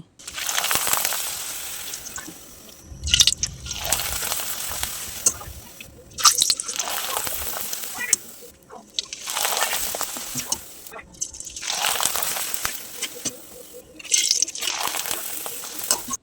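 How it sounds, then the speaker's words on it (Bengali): Pitha rice cakes deep-frying one by one in hot oil, the close, bubbling sizzle surging in loud waves every few seconds and easing between them, with no talk over it. "এভাবে পিঠাগুলো একে একে ভেজে নিচ্ছি।"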